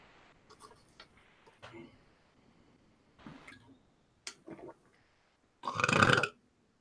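A loud, raspy burp bursts out near the end, preceded by scattered quiet clicks, mouth noises and small bumps in a mostly hushed room.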